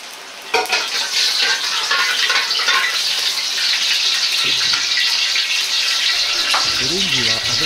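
Eryngii mushrooms fry and sizzle in a pot of oil heated to about 170 degrees, giving a loud, steady crackling hiss that starts abruptly and holds throughout, with faint background voice sounds.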